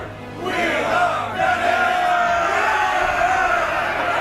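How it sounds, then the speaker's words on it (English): A game crowd in SpellForce 3 bellows a rallying chant of "We are granite" in unison, a loud sustained roar of many voices that swells and holds for several seconds. "That's a horrible cheer."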